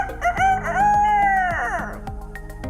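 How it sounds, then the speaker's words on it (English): A rooster crows once on a farm, a loud, close, drawn-out call that rises and then trails off, with a few short clucks and bird sounds after it. "Maybe a rooster?"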